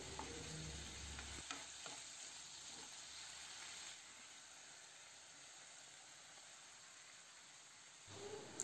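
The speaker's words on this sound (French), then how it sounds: "Je vais les faire dorer quelques instants, puis je rajoute l'oignon vert." Cubes of turkey sizzle in vegetable oil in a frying pan, a steady close hiss with occasional stirring clatter. A brief louder stretch opens it, then it settles to a quieter, even fry.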